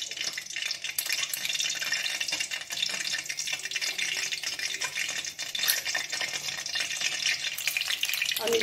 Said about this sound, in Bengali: তেলে গাওয়া ঘি দিয়ে দিচ্ছি।